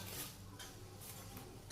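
A ladle stirs milk and sugar heating in a pot, making soft scraping swishes and faint metallic knocks against a low background hum.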